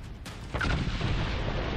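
A set of charges detonates in Dragon Age Inquisition, The Descent DLC, a sudden deep boom followed by a sustained low rumble that fills the moment, with no voices over it.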